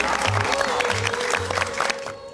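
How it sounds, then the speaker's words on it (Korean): A Korean TV talk show studio audience applauds, filling the clip with a dense steady clatter of clapping with a low hum underneath. "박수 한번 주세요."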